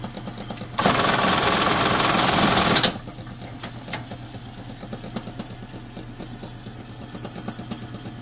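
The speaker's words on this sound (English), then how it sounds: "But this is what the bartacker does." An industrial bartacker sews a bar tack onto a WWII M-1 helmet chin strap in one loud, dense burst of rapid stitching lasting about two seconds, followed by a couple of faint clicks and quiet room tone.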